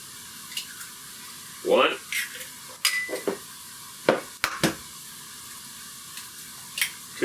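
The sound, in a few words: eggs being cracked into a dish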